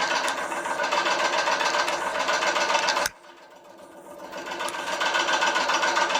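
An electric motor drives a vibration test rig for a dynamic absorber lab setup, giving a steady mid-pitched mechanical hum that cuts off abruptly halfway through, then gradually builds back up to a steady running level.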